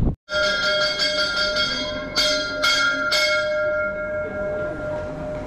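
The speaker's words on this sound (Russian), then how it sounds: "Это значит, пришел паровоз." A bell rings repeatedly at a railway station as a steam train arrives: several loud strikes whose bright tones hang and slowly fade. No voices are heard.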